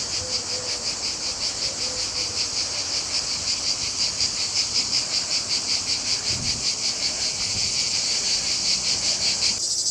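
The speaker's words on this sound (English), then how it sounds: "Can you hear the cicadas?" Loud cicadas at a memorial site shrill in a dense, pulsing high drone that runs unbroken throughout, with a faint low thump partway through.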